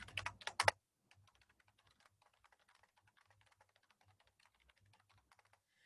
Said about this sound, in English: I type my author field, my year of publication,